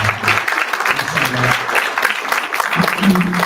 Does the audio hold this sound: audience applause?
yes